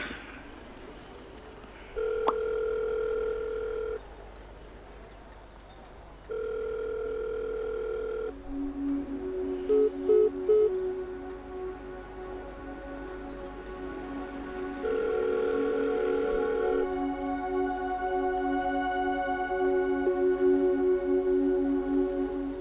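An unanswered phone call rings out as a series of steady electronic ringback tones in evenly spaced bursts, with a few short beeps between them, ending in a long sustained tone. No one speaks.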